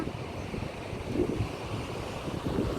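Strong wind rushes across Kotha Koduru beach, a continuous loud roar buffeting the microphone with a low rumble of surf underneath.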